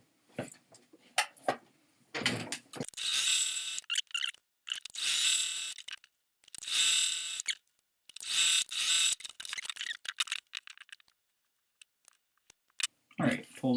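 A sewing machine stitches a table runner seam in short mechanical runs of rapid whirring, stopping and restarting several times, close and fairly loud with quiet gaps between bursts.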